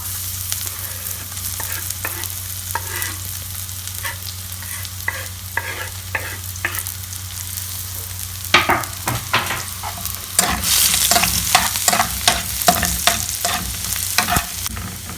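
Chopped garlic hits hot oil with cumin seeds for palak paneer, a close, steady sizzle with repeated spatula scrapes that grow louder and quicker after the garlic goes in.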